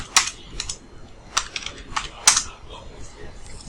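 Keys on a computer keyboard click in short, uneven bursts as a command is typed on an Ubuntu Linux machine. The taps are close and fairly crisp, with small pauses between groups of keystrokes.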